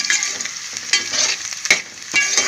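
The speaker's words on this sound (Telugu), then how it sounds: "ఈలోపు కొంచెం జీడిపప్పు వేసుకుందాం. ఇది కూడా ఫ్రై చేసుకుందాం." Cashew nuts frying with onions in a pan, a close, steady sizzle broken by the scrape and clatter of stirring.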